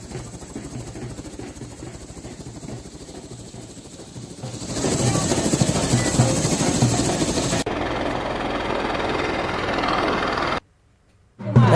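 Helicopter bringing a groom's wedding party to his in-laws' home in Bihar, India, a steady rotor and engine rumble that grows louder midway, with voices over it before a sudden cut.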